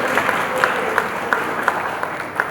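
A crowd at a movie title launch event claps as a guest walks onto the stage, a continuous wash of applause with a few sharper individual claps standing out and some voices underneath.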